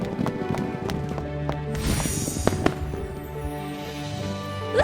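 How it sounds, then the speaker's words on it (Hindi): Cartoon horses gallop in a race, with fast, close hoof clip-clops rattling over a busy background of music and sound effects. "प्रिंस लियाम ने एक घुड़दौड़ प्रतियोगिता का आयोजन किया"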